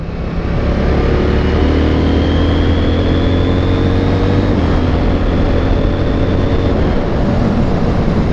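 A CF Moto 800 NK motorcycle ridden hard on a bumpy road, its engine droning loud and steady with strong wind rush throughout, a rising tone sweeping up and down as it accelerates.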